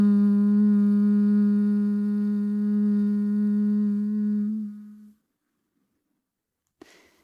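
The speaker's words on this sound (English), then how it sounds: "you'll open your mouth, breathe out through your mouth, and still find that humming sound" Sustained human hum on a long exhale during a yoga breathing class, a steady low voiced tone lasting about five seconds before fading to silence, followed by a brief soft breath or rustle near the end.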